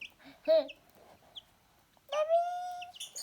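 A chick gives high, clear peeping chirps while playing beside a hamster, one short burst early and a longer sustained peep near the end, close and fairly loud.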